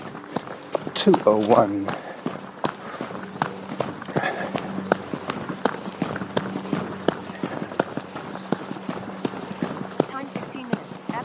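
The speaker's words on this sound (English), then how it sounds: "All right, downhill running." Running footsteps pound downhill on a mountain trail in a steady, fast rhythm, close and continuous throughout, with a voice briefly speaking near the start.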